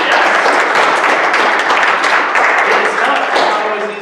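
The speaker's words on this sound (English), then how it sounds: "let's give another round of applause" Sustained applause from a church congregation during a Sunday morning service, a dense, loud wash of clapping with no pauses that fades slightly toward the end.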